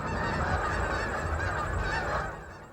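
A flock of geese honks continuously, loud and dense, with overlapping calls forming a steady chorus that tapers off slightly at the end.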